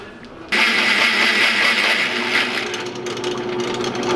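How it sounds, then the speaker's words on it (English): A power drill whines loudly as it bores holes through a metal plate for auxiliary fuel tank studs on an overland van, starting abruptly and grinding on steadily close to the microphone. "let's go get these holes drilled out so we can make that work"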